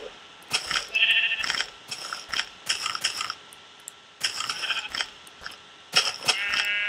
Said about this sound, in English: Don't run away, foolish sheep mortal.